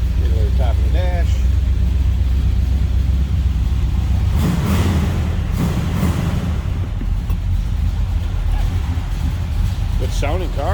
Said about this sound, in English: A little rumble coming out of that 400.